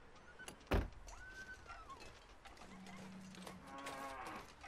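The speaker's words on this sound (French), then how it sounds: "Oh, il est là, l'élan." A moose calls in the survival video game The Long Dark, a drawn-out low bellowing moo with wavering tones, heard amid ambient game sounds and a sharp thump early on.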